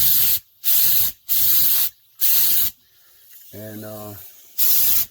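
A spray can hisses on an F-150's rockers and cab corners in four short, loud bursts, then a longer burst after a pause, while someone speaks briefly between them.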